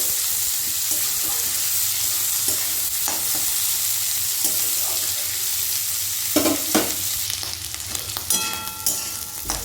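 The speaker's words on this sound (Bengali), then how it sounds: "গুগলিটা দিয়েও কিন্তু দু তিন মিনিট খুব সুন্দর করে ভেজে নিয়েছি" Boiled apple snails fry with onions and spices in a pan, giving a continuous sizzling hiss, broken by scraping stirs and a few clattering knocks toward the end, close up with no talk.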